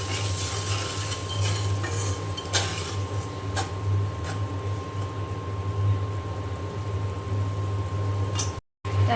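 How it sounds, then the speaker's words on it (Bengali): Spices cook down in a pan of oil and a little water for a hilsa and taro curry, with soft scraping and clinking of a spatula against the pan under a faint sizzle and a steady low hum, no voices. "আর একটু পানি দিয়ে আমি মশলা খুব ভালো করে কষিয়ে নেব"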